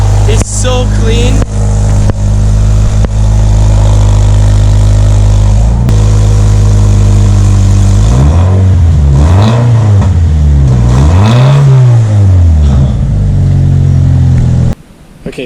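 A Scion FR-S with a Spec-D catback exhaust idles loud and close, then revs up and down twice in rising and falling sweeps before cutting off, with a voice briefly audible.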